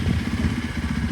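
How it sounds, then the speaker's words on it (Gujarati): A motorcycle engine runs close by with a steady, rough mid-pitched clatter and rumble, outdoors with strong wind blowing. "બાઇક ચાલુ કરીએ"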